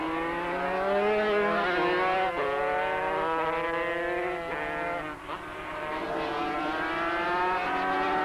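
Suzuki 500cc four-cylinder racing motorcycles of around 115 horsepower scream past at a 1985 road race, a high rising engine wail shifting pitch through gear changes, loud and continuous.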